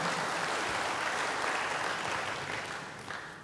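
A church congregation applauding in praise, a dense sustained wash of clapping from many hands that slowly fades toward the end.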